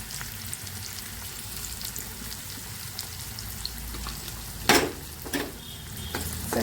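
Onions and curry leaves fry in hot oil with mustard seeds for stuffed brinjal, giving a continuous close sizzle with a few sharper clattering stirs and spatters partway through.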